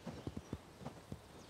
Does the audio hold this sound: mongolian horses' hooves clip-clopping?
yes